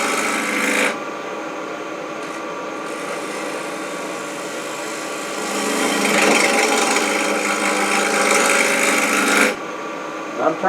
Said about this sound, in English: I'm turning this into just kind of a cylinder right here on the end